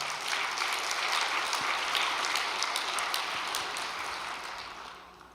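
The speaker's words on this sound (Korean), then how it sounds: "이 가정을 위해서 박수 한 번만 보내주시기 바랍니다." Applause from a congregation at an all-night church prayer gathering, a dense, fairly distant patter of clapping that holds steady and then fades out toward the end.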